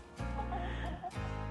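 Rhode Island Red and Barred Rock hens cluck close by in two short bursts of throaty, warbling calls with a brief gap between them.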